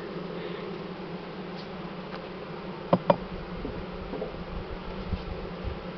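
Honey bees buzzing steadily around an open hive during nest expansion, a close continuous drone with a couple of sharp knocks from hive frames or ceiling boards, no talk.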